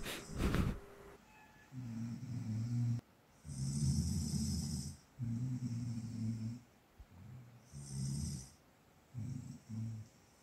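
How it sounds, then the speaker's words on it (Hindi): Two people asleep by a window in a tropical forest setting in Kodaikanal, India, snoring in near-unison, with repeated deep rasping snores at a steady rhythm, fairly close and loud and without talk. "मेरे फ्रेंड्स दोनों खिड़की पे सो रहे हैं और सिंक्रोनाइजेशन के साथ में खर्राटे ले रहे हैं"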